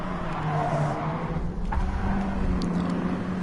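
Mini Cup race car engine droning steadily around the Dragon Trail Seaside circuit in Gran Turismo, a constant mid-level hum with a slight rise near the middle, heard alone with no talk.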